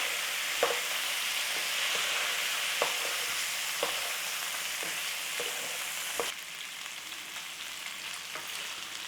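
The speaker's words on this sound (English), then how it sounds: "we're trying to get a crust on our paneer. So just fry it in the pan" Paneer cubes with chili and turmeric fry in a hot pan, a steady bright sizzle with occasional soft clicks of stirring, close and alone with no talk.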